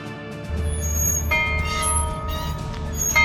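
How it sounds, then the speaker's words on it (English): A town fire bell rings out with sustained metallic tones, struck again partway through and layered over a low steady hum, carrying loud and resonant with no voices. "When the fire bell was rang, it could clearly be heard all over town."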